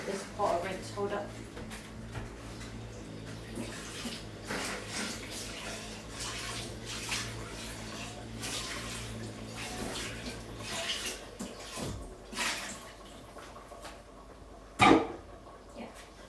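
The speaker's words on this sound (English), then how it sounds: "And you give this pot a rinse" A soup pot gets a rinse under a running tap, a steady wash of water with light clatter of the pot, under occasional talk and kitchen noise, ending with a sharp clank.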